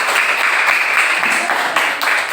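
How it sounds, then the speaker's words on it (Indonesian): Students in a classroom clap together, a sustained, fairly loud burst of applause with an uneven patter of many hands. "Tepuk tangan sekali lagi, nak."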